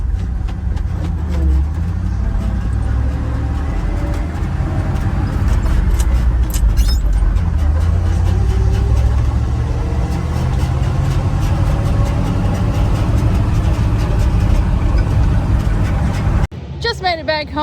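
A dump truck's engine runs steadily as the vehicle pulls away and drives, a loud, continuous low rumble that holds throughout and cuts off abruptly near the end.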